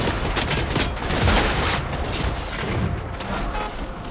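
Gunfire crackles in the Fortnite video game, a dense, continuous stretch of shots and booms that stays fairly loud throughout.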